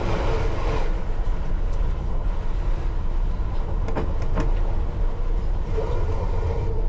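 A train passes at a London Underground station near Wood Green, a loud continuous rumble with rattling and a few sharp metallic clanks, heard with no talking.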